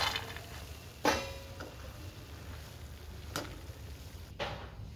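Matri frying in oil over a low flame, a soft continuous bubbling sizzle with a few brief clinks and scrapes standing out above it, no talking.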